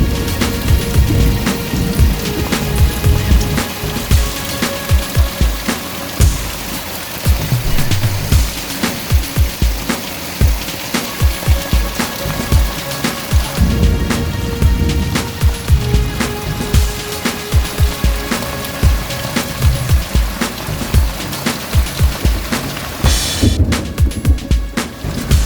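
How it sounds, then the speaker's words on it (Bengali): Heavy downpour during a thunderstorm, a dense continuous roar of rain with irregular drips and splashes on surfaces throughout, loud and near, with no voices. "বিক্ষিপ্তভাবে প্রায় গোটা রাজ্য জুড়ে এই বৃষ্টি চলছে।"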